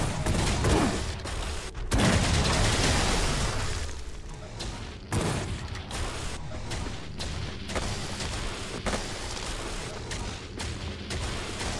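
Enemy hand cannon firing in the WRATH: Aeon of Ruin shooter game, a rapid barrage of loud booming blasts and impacts coming in dense bursts with brief gaps, layered over chaotic combat noise.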